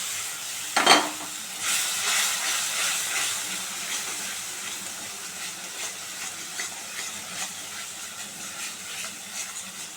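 Mustard paste masala sizzles and fries in a pan as it is stirred, with a sharp clatter at the start, then a steady hiss and intermittent scraping of the spoon throughout.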